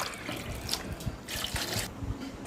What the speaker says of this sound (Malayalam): ഇനി നമുക്ക് അതിലേക്ക് വെള്ളമൊഴിച്ച്